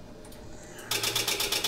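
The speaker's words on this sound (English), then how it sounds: "So you can hear the overspeed clacker." A real Boeing 737 aural warning module in a home cockpit sounds the overspeed clacker: after a short quiet moment, a loud, rapid, steady mechanical clacking starts and keeps going.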